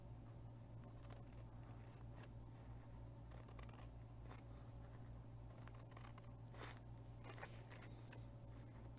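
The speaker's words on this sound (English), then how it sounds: "I'm just gonna cut some small fringes around my coffee" Small scissors snip repeatedly at the edge of a paper coffee filter, cutting fringes in quick irregular clicks and crisp paper snips, faint and close, over a low steady hum.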